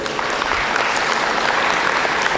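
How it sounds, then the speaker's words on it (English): Brisk, full crowd applause for the winners at a climbing lead finals in Sydney, loud and continuous for a couple of seconds. "Excellent, give them a round of applause."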